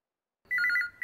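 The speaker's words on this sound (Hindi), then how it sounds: "फोन उठाओ जल्दी से।" A telephone rings close by, a bright trilling electronic ring that starts abruptly after a moment of silence and then repeats.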